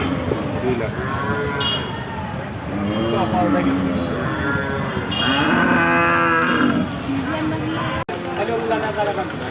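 Friesian cow at a cattle market lowing in several long, loud moos close by, with voices and market chatter running underneath.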